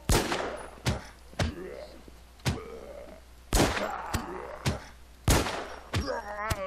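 Separate loud gunshots in the survival game WarZ, about eight sharp cracks spaced irregularly and ringing close, with faint voice-like sounds between them.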